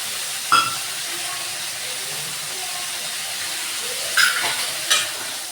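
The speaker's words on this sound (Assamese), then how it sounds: "ভাজি আছোঁ মছলাৰ গোন্ধটো" Masala with turmeric and a little water fries in a pan with a steady soft sizzle, broken by a few sharp scrapes and clatters of stirring, close and without talk.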